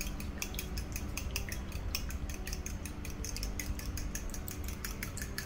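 Two eggs beaten in a bowl for apple cinnamon rolls, a steady run of quick metallic utensil clicks against the bowl, close and continuous with no voices.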